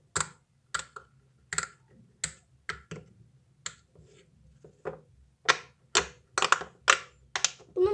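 Sharp popping clicks of a pop-it fidget toy that pops on both sides, pressed one after another in an uneven rhythm, close and crisp in a quiet room.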